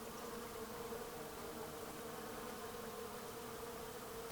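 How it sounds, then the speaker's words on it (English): Bees buzz in a steady, continuous drone around a flowering native plant covered in little green flowers, the hum close and even over faint outdoor background, with no talk. "You see that it's flowering now, the little green flowers, and it's full of bees already"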